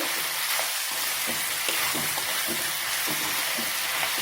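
Vegetables and a tomato sizzling as they sauté in a pan for village-style sambar, a steady loud frying hiss with soft periodic stirring scrapes roughly every half second, no talking.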